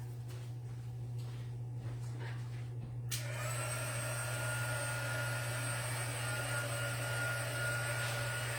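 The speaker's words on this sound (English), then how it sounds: "I'm going to have to go over to my other desk and heat emboss these right quick." An electric heat tool used for heat embossing papercraft switches on and blows a loud, steady whirring rush of hot air that continues without pause, with a constant low hum beneath it.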